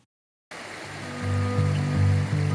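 Creek water rushes steadily along a Pacific Crest Trail crossing in Washington while hikers in sandals wade across with their feet on the bottom, a continuous broadband flow that swells slightly and holds a low churning tone.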